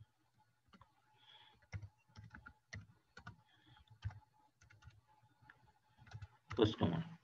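Soft, close clicks of a computer keyboard tap out a short comment in an irregular rhythm, faint and intermittent beneath a quiet voice speaking.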